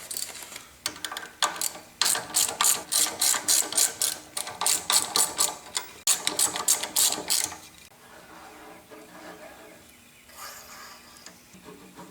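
Gears and cogs turn in the drivetrain of a Yates American B244 woodworking machine during dismantling, giving a fast, rhythmic ratcheting clatter for several seconds before it drops to a faint mechanical hum.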